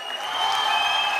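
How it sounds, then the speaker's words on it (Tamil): An audience in a Tamil TV game-show studio applauds for a competing team, a brief steady burst of clapping with no voices over it. "நீங்க யார் வந்து அதிகமா கைத்தட்டி சத்தம் கொடுக்குறீங்களோ அவங்க தான் வின்னர்"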